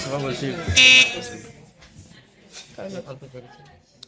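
Quiz contestants test their buzzers during a school quiz match: a loud, sharp electronic buzz sounds once, close and bright, between stretches of talking.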